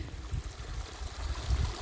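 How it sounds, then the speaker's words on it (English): A small spring-fed creek crosses a hiking trail in the Wheeler Peak Wilderness, giving a close, steady rushing trickle of water with no voices. "there's a little creek crossing over the trail, probably from a spring"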